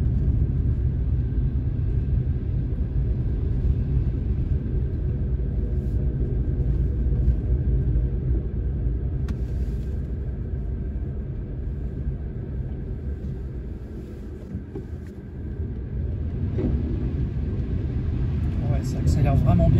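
A Dacia Spring electric car on four-season tyres accelerates on the road, a continuous loud low cabin and road rumble that dips briefly and builds again, with a person talking over it.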